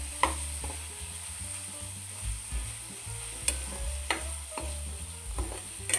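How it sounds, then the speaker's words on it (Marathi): Khoa stir-fried in ghee on low heat for shahi kheer, with a steady sizzle and irregular soft scrapes and taps of a spoon against the pan, close by, with no voices. "आता हा खवा तुपावर चांगला परतून घ्यायचा आहे"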